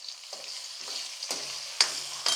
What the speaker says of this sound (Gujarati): કાચા કેળાને હલાવતા રહેવું, નહીં તો નીચે ચોંટી જશે ફ્રેન્ડ